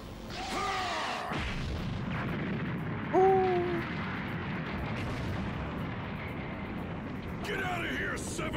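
Energy-blast explosions from the Hell Zone Grenade attack in Dragon Ball Z Kakarot rumble as a continuous barrage of booms, with game voices and whooshing effects mixed over it.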